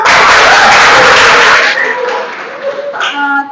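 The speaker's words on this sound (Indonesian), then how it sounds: "Oke, tepuk tangan dulu." A classroom of students bursts into dense, loud clapping for about a second and a half before it breaks off and a voice carries on talking over light room noise.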